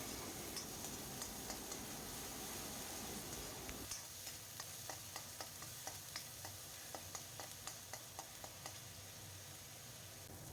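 Ginger, garlic and onion paste frying in a wok for a climbing fish curry, a soft steady sizzle with a run of sharp scraping and tapping stirring strokes in the latter half, close and quiet with no talk.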